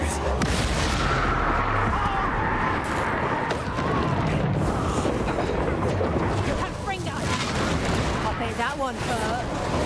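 Spells blast and explode in Hogwarts Legacy, among them the Confringo explosive spell, giving dense rumbling impacts and bursts throughout a chaotic combat exchange while a voice talks over them.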